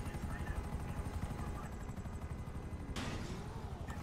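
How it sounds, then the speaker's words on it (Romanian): A helicopter in GTA 5 roleplay gives off a steady, rapid rotor thump, moderately loud, with a sharp burst of noise near the end and voices talking underneath. "Cu elicopterul."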